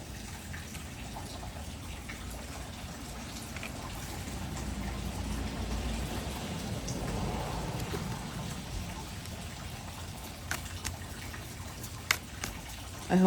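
Water leaking from a carport ceiling gives a steady patter and splash like rain on a hard surface, continuous and moderately loud, with a few sharper drips near the end.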